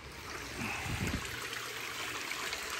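Water drains steadily out of a filter barrel in a three-barrel pond filter system being emptied for the season, a continuous close trickling and gurgling stream with a brief heavier surge near the start, no talking.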